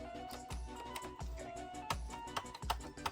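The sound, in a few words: clicky open button of a Japanese GameCube being pressed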